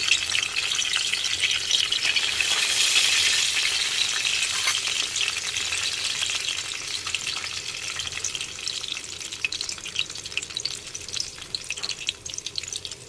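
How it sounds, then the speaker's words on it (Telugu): Loud crackling and spluttering of tempering spices in hot oil for a drumstick-leaf dal, densest early then settling into steady sizzling, close by with no voices. "ఇవి కాస్త చిటపట్లాడాక"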